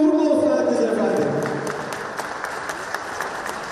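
Audience applause at the opening of the 2022 Motopark Istanbul motorcycle event, loud dense clapping that stays steady throughout, with a voice briefly audible at the start.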